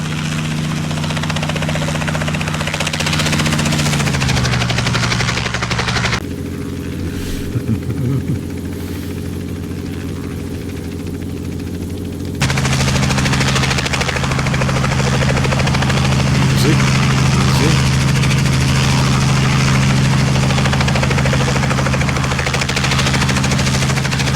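An R66 helicopter in a flight simulator game makes a steady, loud rotor and turbine drone that swells, drops away briefly mid-pass, then returns strong and sustained for the rest of the flyby.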